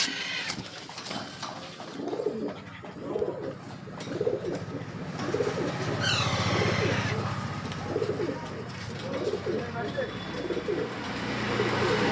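Pigeons in a shop coo in low, repeated bursts, with a person talking over them in a busy, cluttered space and some rustling close by.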